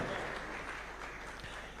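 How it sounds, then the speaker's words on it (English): An audience at a State House Taxpayers' Day event claps for honored taxpayers, a soft, distant, continuous patter of many hands. "we can give them a clap as they're coming for a job well done"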